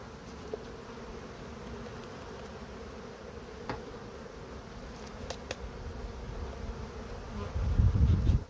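Honey bees buzz inside a hive as it is prepared for winter: a steady, close, low drone that swells into a louder rumble near the end, with no voices.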